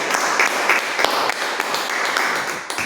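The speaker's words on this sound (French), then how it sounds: "Acclame très fort pour toi-même." A church congregation breaks into sustained applause, steady and fairly loud, with a few cheers or shouts rising from the crowd and no clear talk over it.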